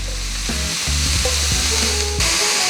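Loud, steady sizzling of vegetables, including celery, frying in a hot pan, a dense hiss that swells slightly as it continues, with no voices.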